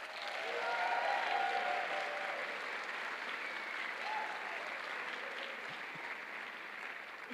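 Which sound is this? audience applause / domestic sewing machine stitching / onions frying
audience applause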